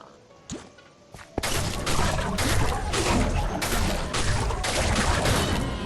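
Radiance enchantment hits in Minecraft Dungeons set off a rapid run of bright bangs, starting with a few sparse clicks before a loud, continuous volley of sharp impacts.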